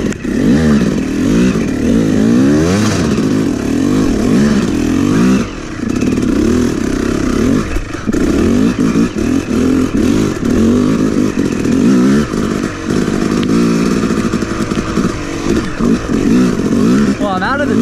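A Yamaha YZ 250 two-stroke dirt bike rides a snowy track, its engine loud and close, revving up and down continuously with clattering and brief dips, while a person talks over it.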